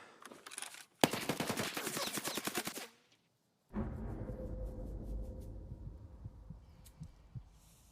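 Bursts of automatic rifle fire in Escape from Tarkov, a dense rapid volley for about two seconds after a short burst, then a gap and a lower rumbling tail of game ambience.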